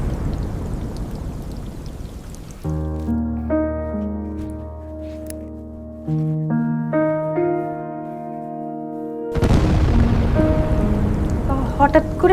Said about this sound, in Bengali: হঠাৎ করে ঝড় বৃষ্টি